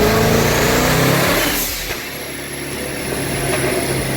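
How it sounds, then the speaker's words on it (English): A 1000-horsepower Dodge Hellcat warming up: loud engine revving with turbo whine, easing off partway and then building again, close to the microphone and with no speech. "I'm also trying to let the car warm up a little bit"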